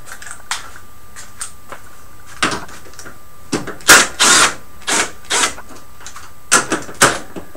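Metal clicks and short ratcheting taps from a hand tool working loose the four 12mm bolts on top of a car's radiator support, sounding close, intermittent and alone with no talking.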